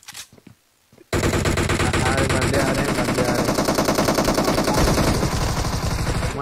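Sustained rapid automatic gunfire in the mobile shooter BGMI bursts in after a quiet second and rattles on loud and continuous, with a voice briefly audible at the start.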